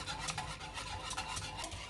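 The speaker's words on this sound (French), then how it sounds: "Et pareil, on remue, d'accord?" Cream sauce for a gratin being stirred in a pot, a soft continuous scraping and swishing with rhythmic strokes, close and fairly quiet, with no talk.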